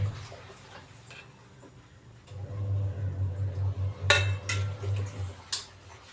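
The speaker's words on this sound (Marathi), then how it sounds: "हे जे एक बाउल आहे ना त्याच्यामध्ये सगळं साहित्य मिक्स करून घेऊया" Egg-bread breakfast ingredients mixed in a bowl, with soft scraping and light clinks of utensil against the bowl under a low steady hum, growing busier with a sharper clatter partway through.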